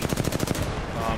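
Rapid automatic gunfire in Apex Legends, a fast burst of close, loud shots in a steady rhythm that fades into a noisy game-mix tail.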